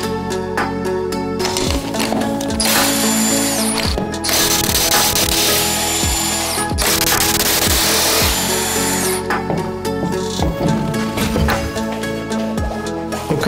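Wheel going back onto a Ford F-150 Raptor during a brake pad and rotor job, with loud bursts of a power tool whirring and ratcheting on the lug nuts, mixed with metallic clanks and handling noise close by.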